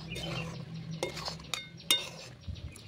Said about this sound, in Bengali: ভালোভাবে নারকেল এবং দুধ মিশিয়ে নেব।